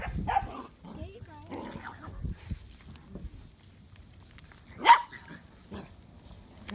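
Dogs at a rescue shelter, including a boxer and a Basset Hound Australian Shepherd mix, give scattered barks and yips, one sharper bark standing out, heard moderately close while people talk.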